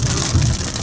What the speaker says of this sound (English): Oh, hail.